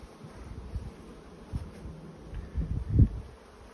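Bees gathered at a fed backyard hive, a faint low buzzing hum with soft rustles and a few nearby bumps, no one speaking.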